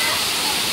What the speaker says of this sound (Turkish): işte meşhur Sabunçayı Şelalesi. Yaklaşık 10 metre yükseklikten akmaktadır burası.